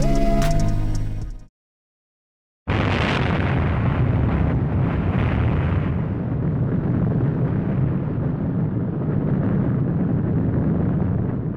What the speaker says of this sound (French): L'explosion dans la mine de charbon australienne a déplacé près de 5 millions de mètres cubes de terre